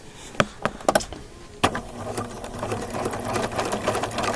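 A sewing machine stitches a blanket stitch along quilt binding, opening with a few separate needle thumps, then settling into a steady, close, continuous mechanical whir with no talk over it.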